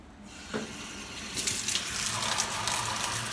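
Water gushes steadily into a pot while boat noodles are being cooked, a continuous close splashing pour that begins about a second and a half in.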